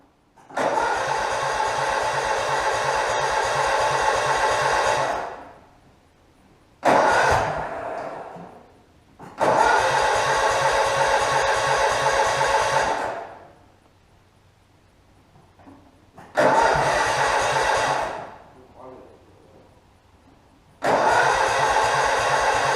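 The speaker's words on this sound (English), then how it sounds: "Is the engine at full speed, full throttle, or is it turned off, cut off?" A truck engine is cranked repeatedly, with several long starter bursts of five seconds or so separated by short pauses. It churns rhythmically and close up but does not catch, and no one speaks.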